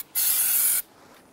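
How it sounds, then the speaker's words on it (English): Cleaner sprayed onto the brake parts of a 2005-2010 Chrysler 300 gives one steady hissing burst of about two-thirds of a second, loud and close, with quiet surroundings before and after. "I'm going to give this a quick spray down here."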